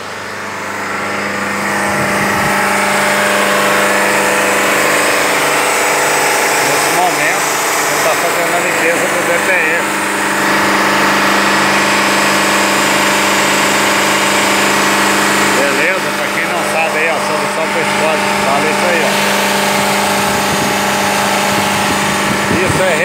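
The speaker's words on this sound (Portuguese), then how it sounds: "Processo de regeneração do motor diesel." A Jeep Compass diesel engine revs steadily during particulate filter regeneration, giving a loud, continuous drone with small shifts in pitch that runs the whole time with no speech over it.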